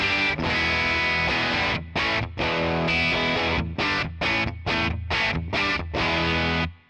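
An electric guitar plays through a distorted capture of a 1967 Fender Twin Reverb amp: loud crunchy chords strummed in choppy bursts with short gaps, ending in a sustained chord.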